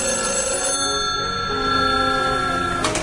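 An old-style telephone bell rings steadily and loudly indoors, one unbroken ring across the clip with a brief clatter at the end.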